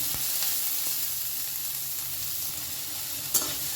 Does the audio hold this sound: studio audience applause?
no